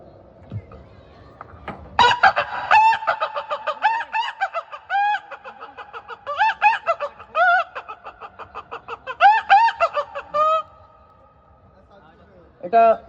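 A human voice on stage imitates a chicken, with clucking bursts and drawn-out rooster-like crows in several clusters separated by pauses, loud and close in a quiet room.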